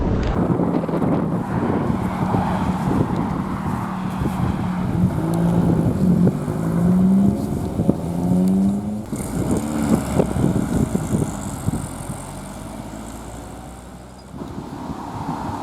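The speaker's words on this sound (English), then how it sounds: "I'm sitting on the exit filming all the Fords leaving" Ford RS cars, including a Mark 3 RS, pulling out of a raceway exit at the Ford RS National Day, with engines rising and passing over steady wind buffeting on the microphone and a low rumble throughout.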